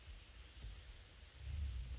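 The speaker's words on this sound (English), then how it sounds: "We're getting the flooding rain, which is pretty crazy." Flooding rain pours steadily in the video game Prison Architect, a dense hiss with a low rumble of thunder swelling toward the end, faint and without voices.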